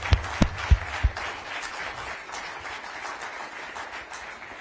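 An audience at a public event applauds the U.S. Health and Human Services Secretary: a few sharp, close claps open, then a steadier wash of crowd clapping continues, with no talking over it.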